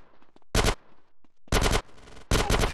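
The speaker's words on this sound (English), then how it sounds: "Get some suppressing fire in there!" Bursts of automatic gunfire in the video game GTA San Andreas during a mission, three loud sustained volleys separated by short gaps.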